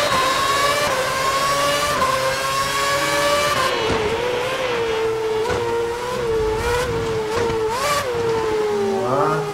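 Race cars in the F1 2011 game launch from the start at Shanghai International Circuit, engines rising in pitch together as they accelerate, a loud layered whine of several cars with tire squeals.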